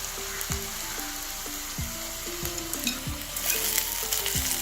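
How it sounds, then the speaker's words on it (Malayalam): Oyster meat and grated coconut stirred in a pan over medium flame, a continuous close sizzle with sharp spoon scrapes against the pan at an irregular rhythm, frying that grows louder toward the end with no voices. "ഇതെല്ലാം ഒന്ന് വെന്ത് കിട്ടുന്നവരെ നന്നായിട്ട് ഇളക്കിക്കൊണ്ടിരിക്കണം"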